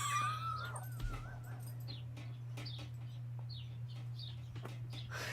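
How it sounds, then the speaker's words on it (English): Birds chirping and calling outdoors, a series of short, scattered tweets and a longer warbling call at the start, faint against a steady low electrical hum. "can hear the friggin' birds"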